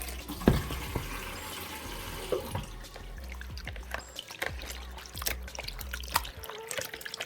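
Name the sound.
rinsing sliced sweet potato in water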